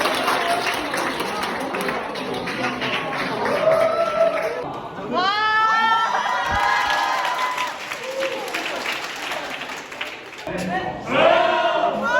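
A large group of about 140 university club members at a retreat bursts into applause, whoops and cheers in bursts that rise and fade, mixed with people talking and laughing nearby.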